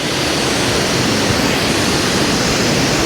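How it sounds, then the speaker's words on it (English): A waterfall in Indonesia drops nearly straight down about ten meters, giving a loud, constant rushing roar of falling water that fills the scene without pause and with no voices. "Look at the beauty of this waterfall coming down like straight 10 meters down almost"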